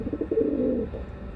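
Pigeons give a short run of soft, low cooing calls, close and fairly quiet, with no voices over them.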